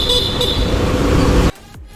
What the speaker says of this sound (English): now I'm just going to show you how the horn looks like in this